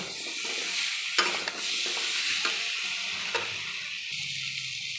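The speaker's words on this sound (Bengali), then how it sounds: "এরপরে ডাঁটাগুলো দিয়ে দিলাম, দিয়ে তেলে আমি 2-1 মিনিট ভালো করে কষিয়ে নেব।" Vegetable stalks stir-fried in hot oil with a few green chillies give a steady, close sizzle, with sharp scrapes of a spatula breaking in every second or so.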